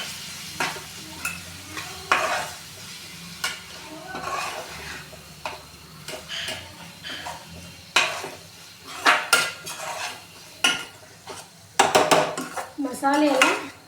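Spiced sev tamatar masala being stirred in a pan with a spoon, giving repeated scraping and clinking strokes over a soft sizzle, irregular and close, with louder clattering bursts toward the end.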